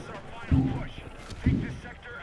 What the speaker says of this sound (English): The fireworks are great for the immersion, I know.